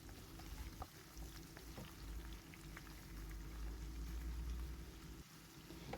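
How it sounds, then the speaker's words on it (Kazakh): Meat fries slowly in a pot over low heat with salt added, a faint, soft sizzle and low bubbling with a few light clicks, quiet and steady throughout. "Етті тұз салып 2-3 минуттай баяу отта қуырамыз."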